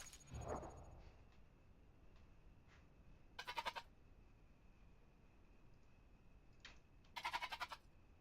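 A goat in the survival video game The Isle bleats twice in short, wavering bursts, faint and somewhat distant over quiet ambient hiss, with a soft thump near the start.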